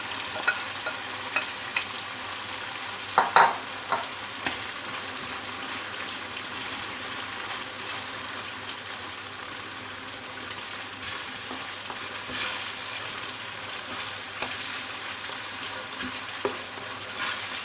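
Mashed eggplant stirred and fried in masala in a pan: a constant soft sizzle with a few scraping stirs, strongest in a short cluster near the start.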